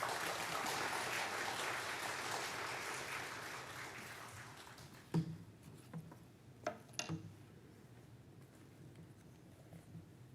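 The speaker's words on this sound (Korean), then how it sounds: "큰 박수로 환영해 주시기 바랍니다" Church audience applause fills the room, then dies away, leaving a few scattered thumps and clicks.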